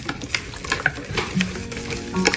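Oil, ginger-garlic paste, white and black pepper, garlic salt, fennel and green coriander being stirred into a chicken marinade in a bowl: soft, wet, irregular scraping and clicking strokes, close by, with no talk.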